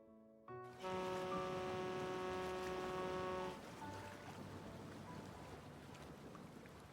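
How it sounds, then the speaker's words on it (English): Rainfall in the game Love and Deepspace, a dense steady patter that comes in after a short musical chord, sits under sustained tones for a few seconds, then continues alone at a quieter level. "Let's wait for the rain to stop."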